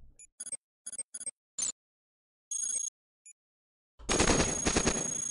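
Shotgun firing in the sci-fi robot video game Cogmind: a string of short, crisp synthetic blips and clicks separated by silence, ending in a loud, sustained burst of harsh digital blast noise.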